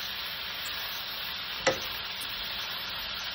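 Pancit noodles tossed with oyster sauce in a hot pan give a steady, close sizzle, broken once by a brief utensil scrape partway through, with no voices.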